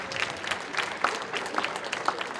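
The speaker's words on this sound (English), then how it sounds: "Round of applause for that" A Kwanzaa celebration crowd gives a moderate round of applause, the clapping fairly quiet and slightly distant with a few sharper individual claps standing out.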